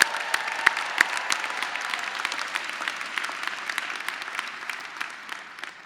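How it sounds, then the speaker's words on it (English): Applause from the crowd at a graduation commencement ceremony in West Lafayette, a broad, sustained roll of many hands clapping in a large hall, steady and then slowly thinning. "So let's clap for that."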